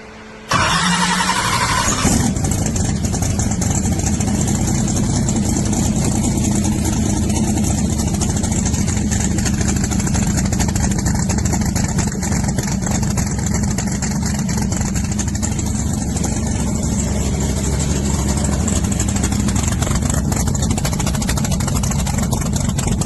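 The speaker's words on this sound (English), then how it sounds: "it's the first startup of the car" A car engine cranks and fires up on its first startup before going to a hub dyno, then settles into a loud, steady, rumbling idle that continues throughout without talk.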